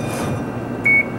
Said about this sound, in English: You're gonna hear a beep.